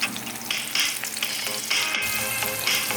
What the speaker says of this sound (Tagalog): umpisa na natin ang paggigisa ng bawang at sibuyas